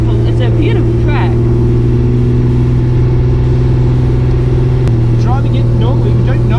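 Engine note of a home-built Datsun 240Z climbing a steep hill, a steady mid-pitched drone from inside the car that runs the whole time, with people chatting over it.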